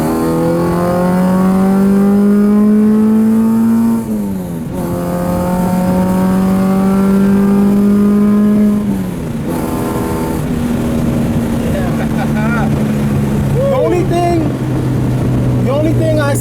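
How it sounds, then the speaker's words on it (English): An H2B-swapped Honda Civic pulls hard through the gears, its engine note climbing in loud, close rising sweeps that drop sharply at each shift, four or five pulls in a row. "We're driving and breaking through all the gears"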